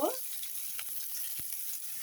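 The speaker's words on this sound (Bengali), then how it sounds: "মরিচটা আগে ভেজে নিচ্ছি, লাল লাল করে মরিচটা ভেজে নিচ্ছি।" Quiet, steady sizzling of chilies frying in hot oil, with a few light clinks of a utensil stirring in the pan.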